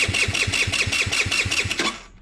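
An Icebear Maddog Gen4 scooter, a Ruckus clone, cranks with a steady rhythmic starter chug of about a dozen even beats at close range, then falls quiet.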